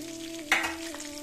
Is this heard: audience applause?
no